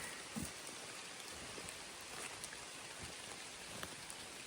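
Steady rain patters through an autumn forest with falling leaves, a dense continuous hiss of drops on foliage with a few louder nearby splats, no voices.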